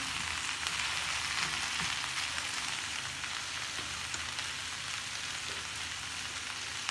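Aloo gobhi matar (potato, cauliflower and peas) cooking under a lid in a pan, giving a steady, even sizzle and steamy hiss that runs throughout with no talk.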